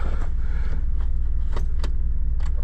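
A first-generation Toyota RAV4 during a gearbox test gives a steady low engine and road rumble from inside the cabin, with a few light clicks and rattles over it and no talk.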